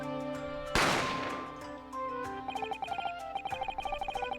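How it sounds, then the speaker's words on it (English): A single loud video game gunshot from The Great Ace Attorney Chronicles bursts out over steady background music, which then carries on with quick, rhythmic pulsing tones. "A gunshot rang out"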